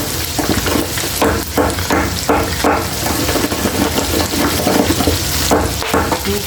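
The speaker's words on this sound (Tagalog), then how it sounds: "prito natin yung atay para hindi siya madudurog at saka hindi malansa" Liver frying in a pan, a dense, continuous sizzle with irregular crackles and stirring scrapes, loud and close with no talk.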